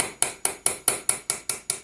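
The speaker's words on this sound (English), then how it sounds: "I'm going to get the punch and the hammer" Nine sharp metallic hammer strikes on a punch, tightening the locking ring of a Land Rover Adwest steering box, ring out in an even, quick rhythm, each with a bright clink and short decay.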